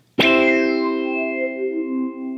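Electric guitar through an Axe-Fx III with a wah-like sweep and subtle modulation: one struck chord rings out, distorted and shimmering, sustaining and slowly wavering as it decays, with no voices.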